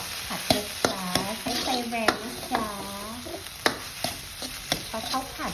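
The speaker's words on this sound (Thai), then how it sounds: "ผัดข้าวผัดใช้ไฟแรงนะจ๊ะเพื่อน" Fried rice is stir-fried over high heat in a pan, with sharp scraping and clacking strikes of a utensil repeating irregularly over a steady sizzle, close and fairly loud, while someone talks throughout.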